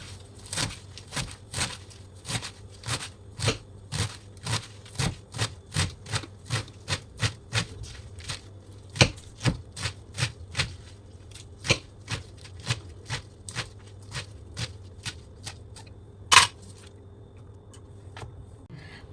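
Rhythmic knife chops through fresh palak spinach on a cutting board, dozens of crisp, evenly spaced strikes in a steady run with a few sharper hits, close and clear with no talking.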